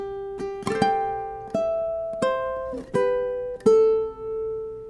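A ukulele plucks a simple arrangement of the Happy Birthday melody slowly, single notes and small chords ringing out one after another, about six attacks, each left to sustain, with no voices.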